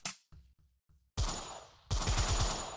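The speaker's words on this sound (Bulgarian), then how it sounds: "О, това е автоматично оръжие." Automatic weapon fire in the Slay.One browser game: a short muffled opening, then two loud bursts of rapid rattling shots, alone with no voices.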